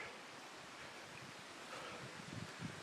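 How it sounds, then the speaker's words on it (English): A babbling brook flows alongside a river trail in the woods, heard as a faint, continuous wash of running water mixed with light wind noise and rustling, with no talk. "Alongside this babbling brook."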